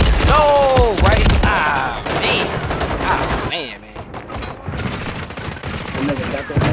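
Gunfire in Warzone 3 from a WSP9 and DG-58 loadout: sharp bursts and shots crack over loud game effects, with voices talking through the clip.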